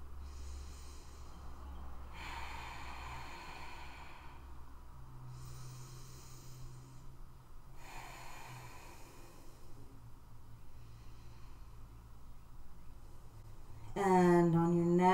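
Slow, audible breaths during a yoga forward fold, about three soft airy inhales and exhales spaced a few seconds apart, close and fairly quiet over a low background hum, ending with a brief tonal sound.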